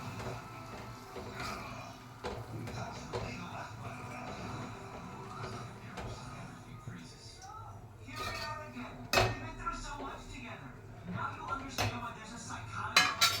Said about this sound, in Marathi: हे चांगलं मिक्स करायचं.